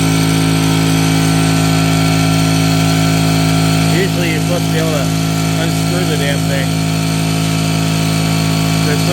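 An air compressor drones loud and steady throughout with a constant mechanical hum, while a person talks over it partway through.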